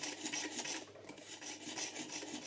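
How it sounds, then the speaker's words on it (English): A knife blade drawn through the tungsten carbide stage of a sharpener gives rapid, rhythmic rasping strokes, close and crisp, repeating steadily with a brief pause midway. "The second stage, tungsten carbide, is used for rough sharpening."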